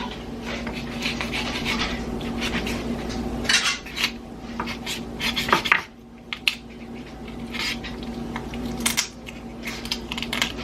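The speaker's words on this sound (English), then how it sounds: "Now you can kind of twist your knife, and that will help split the bone too as you go." A knife splits a whole chicken's backbone with crunchy cracks and scraping clicks against a cutting surface. The sound comes close and irregular over a low outdoor hum, with a couple of louder snaps midway and no talking.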